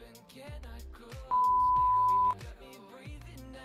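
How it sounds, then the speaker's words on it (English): A steady one-second high-pitched censor beep cuts in over busy background music, loud and flat-toned, then stops abruptly. "Instant sensor beep."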